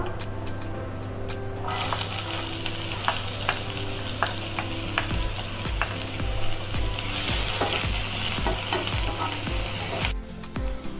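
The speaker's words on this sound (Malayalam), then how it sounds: "ഇതിലേക്ക് ഒരു മീഡിയം സൈസിലുള്ള സവാള അരിഞ്ഞു വെച്ചത് ചേർത്ത് കൊടുക്കാം." Chopped onion frying in sunflower oil in a pan, a steady close sizzle broken by repeated scraping stirs of a spoon, the hiss swelling louder after the onions go in.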